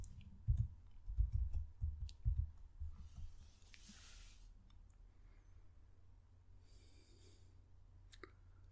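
A few faint clicks from a computer mouse and keyboard while entering a password, scattered sharp ticks over soft low thumps in a quiet room, fading to near silence.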